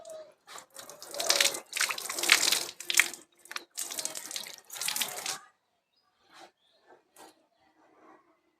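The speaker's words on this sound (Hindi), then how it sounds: "हाथ धो लेती हूँ।" Hands are washed under a running tap, with splashing water in several bursts over about five seconds, then a few faint drips and small sounds in a quiet room.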